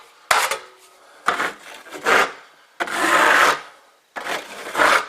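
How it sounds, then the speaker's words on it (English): A larger trowel floats joint compound over a drywall patch in four close, scraping strokes, each a loud rough swipe separated by brief silences, with no voices. "float over it with a little bit larger trowel"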